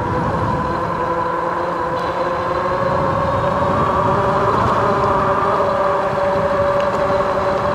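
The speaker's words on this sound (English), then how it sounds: "so I could get the tire noise and the motor noise" An EUYBIKE K6 Pro e-bike is ridden along, its tire roar and motor whine blending into a continuous, steady hum, with no voices over the rolling drone.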